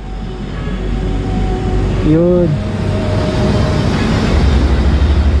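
A Kymco AK 575 Premium scooter engine runs close by with a deep, steady drone and a brief rev rising and falling in the middle, while someone speaks briefly over it.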